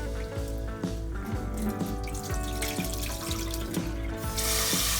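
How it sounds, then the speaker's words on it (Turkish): Rice is washed in a pot with water for a baked rice pudding, with continuous sloshing and running water sounds, close and steady, and light splashes throughout. "Evet pirincimizi yıkayacağız"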